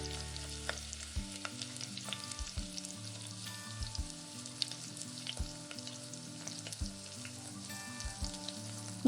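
Peas-stuffed matar kachuri slipped into warm oil and frying, a quiet, continuous sizzle with fine crackling beneath soft, steady melodic background tones.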